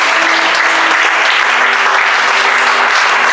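A church congregation applauds loudly and steadily in praise of God, dense clapping filling the space without pause, with a faint tonal hum beneath.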